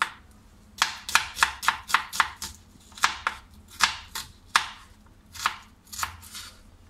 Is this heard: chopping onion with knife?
yes